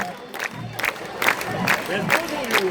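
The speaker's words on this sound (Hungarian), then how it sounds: "Köszönjük szépen, nagyon hálásak vagyunk a tapsoknak." An audience applauds and cheers at the close of a live show, a steady wash of clapping with scattered shouts and whoops rising through it, moderately loud and sustained.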